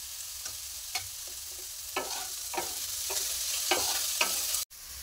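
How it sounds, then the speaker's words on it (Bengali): Potatoes and carrots frying in hot oil, a continuous sizzle broken by several sharp stirring scrapes at an uneven rhythm, close and fairly loud, with no one talking. "তেলটা গরম হয়ে গেছে, আলু আর গাজরগুলো একসঙ্গে তেলে দিয়ে ভালো করে ভেজে নেব"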